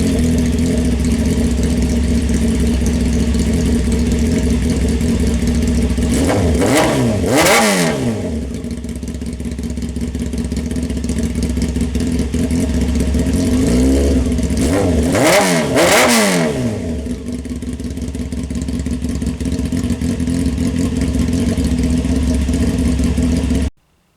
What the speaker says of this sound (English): let's start this thing up, see what it sounds like without exhaust